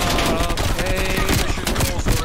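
Dense, continuous gunfire and explosive bombardment from Call of Duty: Black Ops Cold War online play, a loud unbroken barrage of rapid shots and blasts with no clear gaps and faint voice traces beneath.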